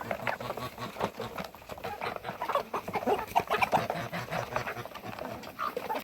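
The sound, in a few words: hens clucking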